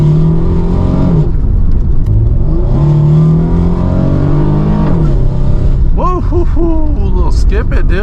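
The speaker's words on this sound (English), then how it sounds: "We'll go ahead and rip the 300ZX out." An automatic Nissan 300ZX Z32 accelerates hard from inside the cabin, its engine droning up through rising revs with shifts, loud and close, ending in rapid sweeping rev changes.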